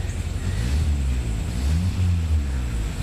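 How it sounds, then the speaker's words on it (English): A Toyota truck engine is revved hard outdoors, a continuous low, throaty rumble that swells and sags slightly, with no talking. "He's just revving the shit out of it."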